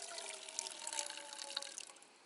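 Boiled water poured from a kettle for cooking couscous gives a faint, airy hiss and trickle that runs on steadily before tapering off.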